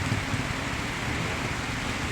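Soft, steady rain hiss spread evenly across the clip, with a faint low rumble beneath; no talking.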